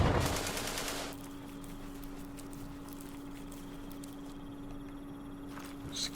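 Mortar fire in the wargame Campaign Series Vietnam at Dien Bien Phu: a loud burst of rapid blasts at the start gives way to a long low hum with faint scattered pops.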